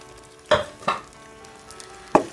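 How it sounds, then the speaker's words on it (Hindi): Boiled macaroni being mixed with sauce in a pan, three distinct close scraping knocks of a utensil against the pan over a quiet background. "सॉस के साथ मैक्रोनीस को अच्छी तरह से मिक्स कर लेंगे"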